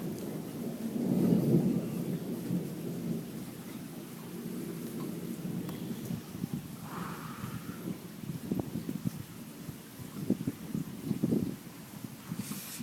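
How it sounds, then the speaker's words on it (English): A thunderstorm in Italy, with low rolling thunder booming in a big swell early on, then continuing rumbles, gusts and scattered cracks over steady rain and wind noise. "This is a typical thunderstorm."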